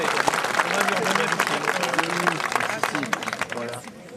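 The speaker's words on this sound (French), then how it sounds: "Un super applaudissement." A crowd at a Normandy ceremony claps steadily for several seconds, dense applause mixed with cheering voices and a person speaking over it.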